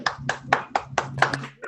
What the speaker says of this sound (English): please do an applause or a thumbs up